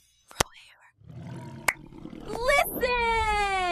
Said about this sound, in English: Lion, lion, lion, lion.